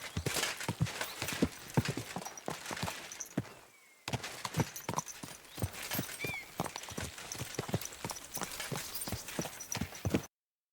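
Horse hooves clip-clop steadily in a rhythmic walking gait in the medieval role-playing game Kingdom Come: Deliverance II, close and clear, with a brief pause midway before the plodding resumes.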